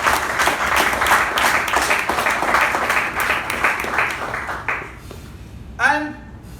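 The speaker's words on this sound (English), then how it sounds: "let's go ahead and give a fantastic round of applause to Toastmaster Ujwal" Applause from an audience at a Toastmasters club installation ceremony meeting, steady dense clapping for several seconds that thins and fades out, followed by a brief voice at the end.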